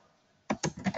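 A command typed on a computer keyboard during database administration work, heard as about four crisp, close key clicks in a quick, slightly uneven rhythm after a moment of near silence.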